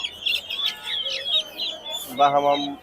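A hen chirps and clucks in quick high bursts, then a rooster gives a louder, deeper call near the end, close by, at a poultry market in Tongi.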